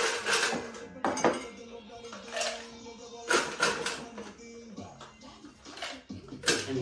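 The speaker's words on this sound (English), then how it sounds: "you now add some ice in there" Ice cubes clatter into a glass for a winter citrus tequila smash, a series of sharp clinks and knocks in irregular bursts, close and fairly crisp.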